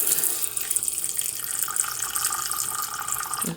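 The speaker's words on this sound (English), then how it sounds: "fill up her water dish" Tap water running steadily to fill a pet tarantula's small water dish, a continuous close splashing flow that cuts off at the end.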